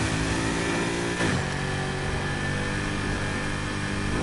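In the racing game NFS Heat, a car engine revs loudly and continuously, holding a steady high drone with a brief surge in pitch partway through.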